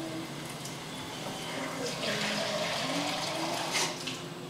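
Hot water pours steadily into a cooking pot of chicken and potatoes, a continuous rushing splash that swells slightly partway through; no voices.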